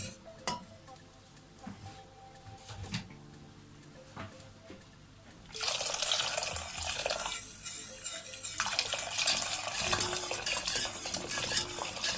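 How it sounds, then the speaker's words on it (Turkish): Hot water is poured into a pot of homemade kaşık börek soup: a few quiet clinks give way midway to a loud, rushing pour that splashes on for several seconds. "Evet şimdi sıcak suyumuzu ilave edelim."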